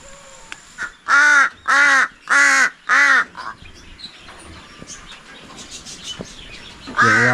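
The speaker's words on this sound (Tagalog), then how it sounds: "Yung uwak natin hanggang ingay lang siya dyan sa loob." A crow caws four times in quick succession, loud and close, then quiet background chirps follow before another caw starts at the end.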